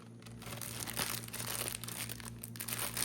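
A close crinkle of a plastic zip bag holding deviled egg filling as it is pressed shut, with small crackling snaps running along the seal.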